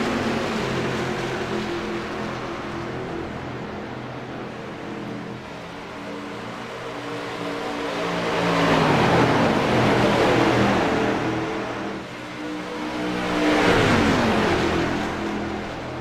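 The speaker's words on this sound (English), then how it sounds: "Have you guys ever wondered how much noise these cars make?" Loud race car engine roar swelling and fading as cars pass by on an oval track at Kansas, two distinct passes building around the middle and near the end, with no talking.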